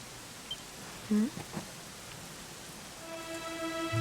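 Steady rain falls in the Dragon Quest XI video game, a soft, even hiss throughout, with a few brief sounds in the middle and sustained musical tones rising in toward the end.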